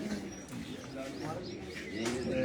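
Soft pigeon coos with a few chirps from a flock of racing pigeons on a rooftop, steady and close under faint background voices and ambient murmur.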